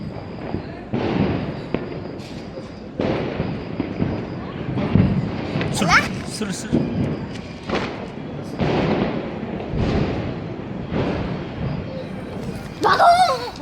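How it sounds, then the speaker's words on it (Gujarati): Mirchi bomb firecrackers set up in a tripod at a Diwali celebration burst in a run of sharp, loud bangs with short gaps between them, while people talk nearby. "તો અત્યારે ટ્રાયપોડ બનાવ્યો છે મિર્ચી બોમ્બનો."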